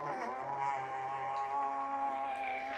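A sealed 540 RC electric motor running while submerged in water and stirring it, giving a steady, faint whirring hum with stable tonal overtones, alone for about three seconds.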